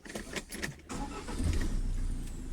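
A Land Rover Defender with the Puma diesel engine restarts after a brief pause, the starter burst giving way to a steady engine running close by, loud and continuous to the end.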